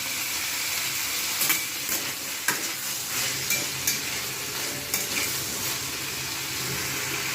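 Salted vegetables fry in a pan with a constant close sizzle, punctuated by a few scraping stirs of a spatula, no voices present.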